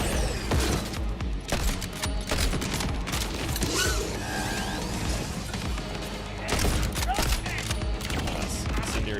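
Rapid gunfire from the video game Borderlands 4, including an incendiary weapon, crackles in dense, loud bursts with impacts and crashes throughout, a few lighter gaps breaking the steady shooting.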